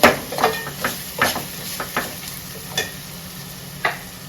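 Green chillies fry in a pan for Nellore fish curry, a soft hiss broken by repeated light scraping knocks of stirring, close and without talk.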